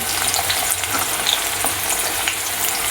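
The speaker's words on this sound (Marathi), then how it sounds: "कांदा चांगला भाजत आहे." Onions sizzle loudly in hot oil in a pan for a Kolhapuri-style mutton dish, a close continuous crackle with faint stirring, no talking.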